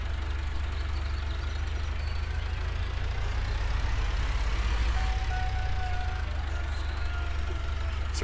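Small tractor in a farming video game idles and runs with a steady low engine drone and faint mechanical whine, constant and close throughout with no talking.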